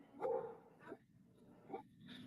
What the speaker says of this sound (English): So you guys can hear my dogs all barking.